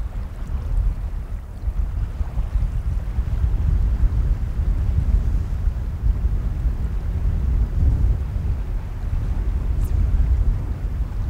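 Strong, gusty wind blows over the Víðidalsá river in Iceland during fishing, buffeting the microphone with a loud, continuous low roar that swells and eases, with no voices.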